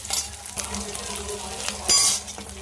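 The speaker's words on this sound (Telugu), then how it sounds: "అల్లం వెల్లుల్లి పేస్టు ఇంకా పచ్చిమిర్చి ఉల్లిపాయ కూడా పచ్చివాసన పోయేంత వరకు బాగా ఫ్రై చేసేసుకున్న" Onion, green chili and ginger garlic paste fry in a pan with a soft sizzle, broken by stirring scrapes and a few clinks of utensil against cookware, close and fairly quiet.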